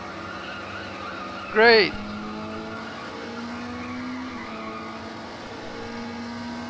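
Tires squeal in a short, loud burst as a car drifts in Fast & Furious 6 on iOS, over a steady engine drone and followed by a rising engine note, with someone speaking briefly.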